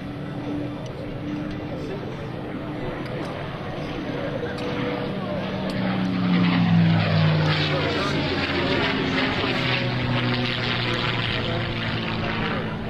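P-51 Mustang propeller airplane at the 2004 NAS Oceana Airshow: a continuous engine drone that swells louder in the middle as the plane passes, with sweeping pitch shifts, outdoors and at a moderate distance.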